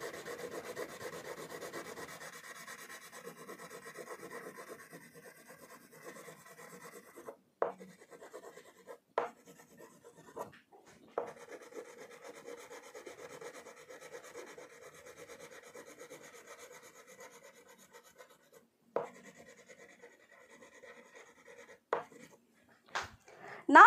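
Crayon rubbing back and forth across paper in steady, even strokes, close and soft, with a few brief pauses and light taps between passes.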